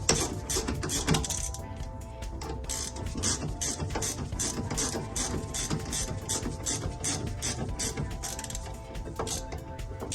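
A hand ratchet cranks a bolt on a Honda Civic EK9 rear trailing arm, with rapid, evenly spaced metallic clicking that continues steadily at close range.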